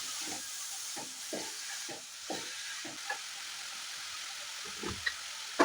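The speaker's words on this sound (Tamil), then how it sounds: "சேர்த்துட்டு முட்டைக்கோஸ், வெங்காயம் எல்லாம் நல்லா வதங்கி வரணும்." Cabbage and onion sautéing in a pan for a Tamil cabbage poriyal, a steady soft hiss of frying with a few light stirring scrapes at intervals, close and alone without talk.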